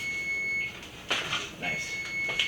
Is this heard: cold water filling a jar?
no